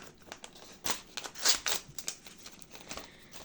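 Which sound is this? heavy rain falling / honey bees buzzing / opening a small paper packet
opening a small paper packet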